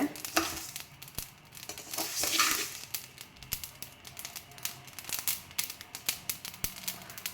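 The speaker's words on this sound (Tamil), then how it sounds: "கடுகு வறுபட்டுச்சுன்னு தெரியும் போது டப் டப்னு ஒரு சத்தம் கேட்கும்" Mustard seeds splutter in hot oil for fish curry masala, giving a quiet run of sharp pops and crackles over a soft sizzle, scattered irregularly throughout.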